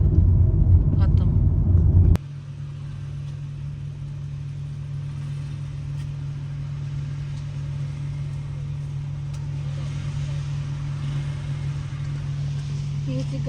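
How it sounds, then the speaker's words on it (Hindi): A car engine drones steadily while driving, a low, constant hum that settles in after a brief louder burst at the start and continues evenly to the end. "ये जी गाड़ी में डलवाते हैं पेट्रोल और फिर निकलते हैं"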